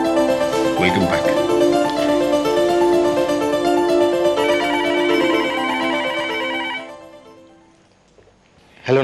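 A telephone rings steadily and loudly, a repeating electronic ring tone that holds for about seven seconds before cutting off and fading to near silence at the end.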